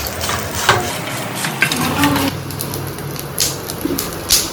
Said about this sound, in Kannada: ಇಷ್ಟೇ ಆಯಿಲಲ್ಲಿ ಫ್ರೈ ಮಾಡಬೇಕು, ಜಾಸ್ತಿ ಆಯಿಲ್ ಯೂಸ್ ಮಾಡೋದು ಬೇಡ.